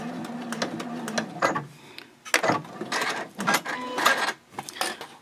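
A sewing machine backstitches the seam of a fold-flat fabric basket, quiet and close, its motor running in short bursts that stop and restart as the stitching direction reverses.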